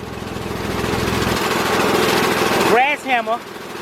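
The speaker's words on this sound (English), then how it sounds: "using the air gun, hitting it and taking a hammer" A rapid mechanical rattle of a pneumatic air hammer on a ball joint of a 1995 Ford Econoline E150 pounds steadily for nearly three seconds, then cuts off, followed by a short burst of talking.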